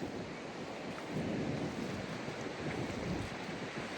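Sea waves wash onto the shore in a steady broad rush, with wind buffeting the microphone and no voices.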